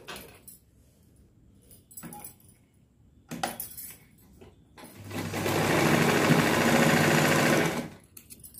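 A sewing machine stitches a blouse, with a few scattered clicks and handling knocks first, then a steady, loud mechanical whirr of needle strokes for about three seconds before stopping.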